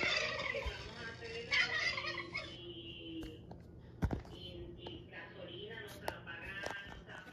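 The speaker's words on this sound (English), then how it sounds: "This is a turkey." A turkey gobbles in a rapid, rattling burst, then calls again more faintly, with some clucks and outdoor background noise around it.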